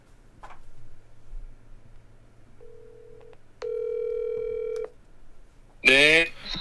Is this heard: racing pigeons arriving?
no